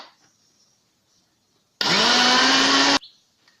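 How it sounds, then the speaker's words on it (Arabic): An electric blender whirs loudly for about a second as it blends eggs, sugar and milk for a lemon cream cake, starting and stopping abruptly within an otherwise quiet kitchen. "دابا انا غادي ندوز نطحنو"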